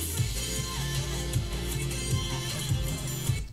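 K-pop mashup layering two songs, aligned but in clashing keys, playing as a dense, steady music mix with a thumping beat throughout, no voices talking over it.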